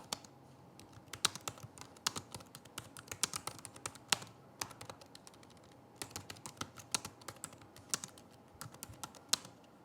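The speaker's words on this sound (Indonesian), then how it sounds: "berikut ini adalah contoh suara feedback dari keyboard Asus ZenBook S13 OLED" Typing on the keyboard of an Asus ZenBook S13 OLED UM5302T laptop, a quiet, uneven run of soft key clicks and taps, close by, with brief pauses between bursts.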